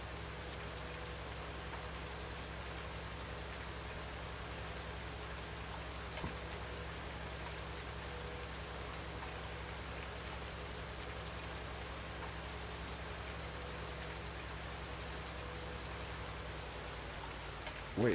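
Steady, even rain hiss from the Farming Simulator 19 video game, an unbroken wash of falling rain that holds at a constant level throughout with no other clear sounds.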